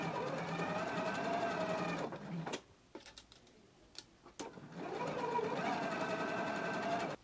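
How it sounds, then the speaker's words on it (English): A domestic sewing machine stitches down quilt binding in two steady runs of rapid, continuous motor-driven stitching, close and loud, with a short pause of soft handling clicks between them. "So let's go ahead and stitch our binding now."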